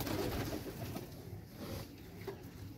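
Desi, giribaj and jalali pigeons kept together inside a netted enclosure give a soft, continuous cooing murmur, close and faint, with no talk.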